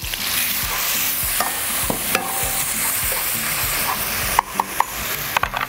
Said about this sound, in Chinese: 在这个热油里头哈，稍微把它这个炒一下